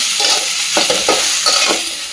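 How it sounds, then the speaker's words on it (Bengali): Potatoes fry in a hot pan as a spoon stirs them, a steady sizzle running throughout with several distinct scraping strokes against the pan, close up and with no one talking. "চলো আলু ভাজাটা করে নিই"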